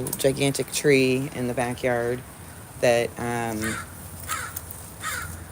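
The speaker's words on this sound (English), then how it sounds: "there's this one crow that's just yelling at me." A crow gives harsh, repeated caws from a backyard with a gigantic tree. The calls sit mostly under a person talking nearby.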